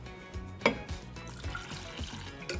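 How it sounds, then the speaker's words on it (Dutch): A small splash of water poured into a cooking pan for boiling potatoes, a brief burst of pouring with a sharp clink near the start, then light trickling and dripping at close range. "Ik doe een klein bodempje water in de pan."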